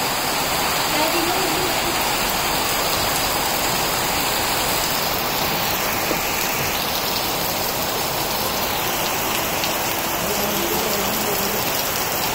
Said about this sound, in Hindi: कितनी तेज बारिश है?